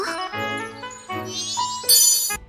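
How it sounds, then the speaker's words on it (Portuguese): A bright, sparkling fairy chime from a dinosaur video game, like the Zelda fairy: layered tinkling tones that shift and rise, ending in a shimmering high flourish, loud and clear with no talking. "Parece a sininho do Zelda"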